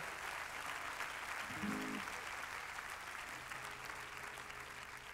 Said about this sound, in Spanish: podéis darle un aplauso que os escuchará